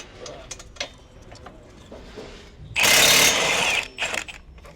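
An impact wrench hammers loose a 22 mm brake caliper bolt on a G35/G37 front suspension, a loud close buzzing burst of about a second, with quieter clanks and handling noises around it.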